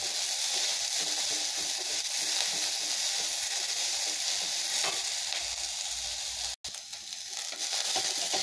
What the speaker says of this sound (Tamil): வெங்காயம் கொஞ்சம் வதங்கட்டுங்க.